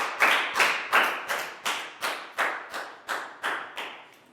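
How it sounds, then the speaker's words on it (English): A small group clapping in a Year 4 classroom, about eleven evenly spaced bursts of applause of steady moderate loudness, with no talk. "Big round of applause for Chu."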